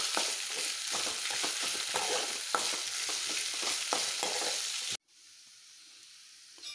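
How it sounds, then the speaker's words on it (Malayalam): Ginger fries in coconut oil as it is stirred in a pan, a loud, close sizzle broken by sharp scraping clicks from the spoon, then cutting abruptly to a much quieter, fainter hiss. "നന്നായിട്ട് അത് നല്ല മൂത്ത് നിറം ബ്രൗൺ നിറമാകുന്നത് വരെ നല്ലോണം ഇളക്കിക്കൊണ്ടിരിക്കും"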